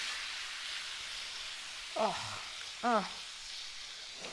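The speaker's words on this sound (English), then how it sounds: "It's gone from a violent hissing and sizzling to a more gentle simmer now" A pan of lasagne sauce hissing and sizzling steadily up close, a constant bright frying wash throughout, with two short vocal exclamations over it.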